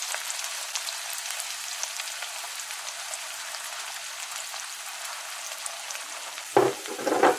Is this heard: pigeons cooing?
no